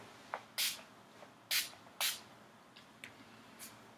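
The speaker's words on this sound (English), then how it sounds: "followed by finishing spray." Several short, sharp spritzes of a makeup finishing spray pump, close and crisp, in an irregular sequence with quiet gaps between bursts.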